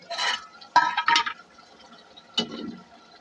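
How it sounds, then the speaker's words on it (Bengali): Chicken and potato curry being stirred in a pot gives three short wet, sloshing scrapes spaced over a few seconds, close and fairly soft, with quiet gaps between and no talking. "আবারও নেড়ে দেবো।"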